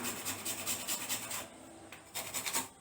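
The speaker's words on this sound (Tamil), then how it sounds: "இப்போ நட்மக்கை வந்து சீவுவோம்." Whole nutmeg being grated by hand for masala chai, a dry rasping scrape in quick repeated strokes, close and fairly soft, with a short pause midway.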